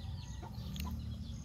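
A newly arrived rooster clucks softly at close range in a poultry pen, a few low, short calls over steady farmyard background noise.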